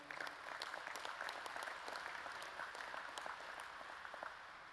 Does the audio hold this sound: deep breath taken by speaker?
no